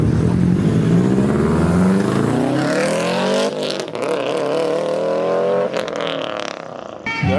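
A tuned car with a catless Tomei exhaust and no resonator revs loudly and close by at a car meet, its rasping engine note climbing and falling in pitch through repeated throttle blips.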